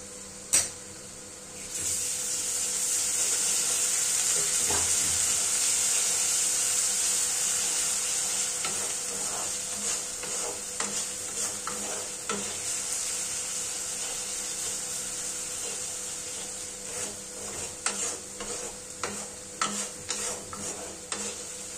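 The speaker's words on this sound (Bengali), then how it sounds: "পেঁয়াজটা কিছুটা ভাজা হয়ে গেলে এবার তাতে আমরা আদা এবং রসুনের পেস্ট দিয়ে দেব।" Ginger and garlic paste frying with onions in a pan, giving a steady close sizzling hiss with scraping stir strokes and light clicks that grow sparser and more intermittent toward the end.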